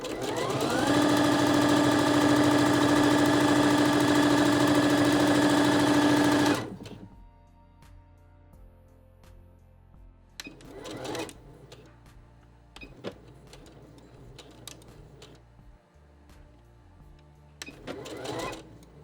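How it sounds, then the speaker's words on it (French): A Juki HZL 70HW-B domestic sewing machine runs steadily at speed with a loud, even mechanical whir for about six seconds, then stops, followed by scattered handling clicks and rustles. "Je vous propose au passage d'écouter le son de cette machine à coudre."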